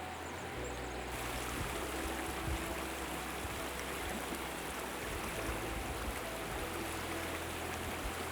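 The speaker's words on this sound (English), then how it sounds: "I like the sound of the water." A stream in the Hoh Rainforest rushes steadily, giving a broad continuous wash of flowing water that stays even throughout, with no voices.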